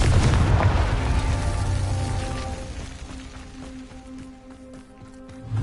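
The Confringo fire spell explodes in Hogwarts Legacy, opening with a loud boom and fiery burst that fades into crackling debris and rumbling, with a faint tonal hum underneath and a fresh surge at the very end.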